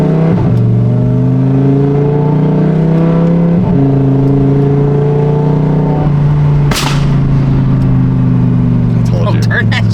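An Audi R8 with a very loud exhaust revs hard, its engine note rising and falling through several blips, with a sharp pop of exhaust flames near the end and people talking throughout.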